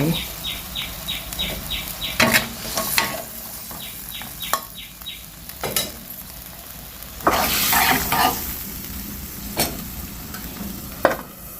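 Eggplant added to a boiling Thai jungle curry in a pot: scraping stirs and wet clatter over a steady bubbling simmer, with a few louder knocks and splashes at close range.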